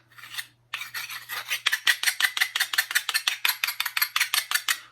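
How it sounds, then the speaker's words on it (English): A harsh, rasping scrape of a knife blade across a rock repeats in a steady rhythm, close and gritty, with no voices. "it's the sound of a knife blade against a rock"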